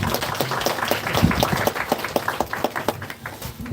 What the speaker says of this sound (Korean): 우리 박수로 한번 영광하는 기도.